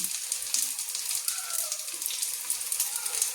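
Fish-shaped vegetarian mock fish pieces frying in hot oil in a pan, a steady soft hiss of bubbling sizzle with faint pops, heard close and alone.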